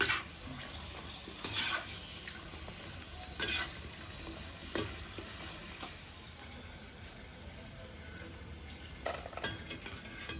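Puchkas fry in a wok while being stirred nonstop: a steady low sizzle of hot oil runs throughout, broken by sharp metallic scrapes and clinks of the utensil against the pan every few seconds.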